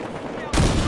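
Heavy gunfire and a burst of explosive noise erupt midway through a short stretch of Battlefield Hardline combat, jumping from a quieter background to a loud, dense roar.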